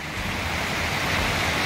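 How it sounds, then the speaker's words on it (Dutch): Streams of water and a small waterfall produce a steady, continuous rushing wash, fairly loud and even, with no voices over it. "Hier zo zien wij waterstromen. En dan zien wij hier ook een watervalletje."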